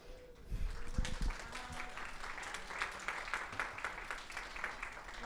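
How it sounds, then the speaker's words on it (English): Applause rises from faculty members of a college of arts and humanities at an affordable learning symposium, fairly faint and distant, with a few sharper claps and thumps near the start before settling into a steady patter. "stand up and receive your applause"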